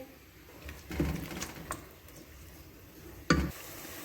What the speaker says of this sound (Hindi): अब इसके अंदर मैं प्याज डाल रही हूँ। इसको हम गोल्डन ब्राउन करेंगे।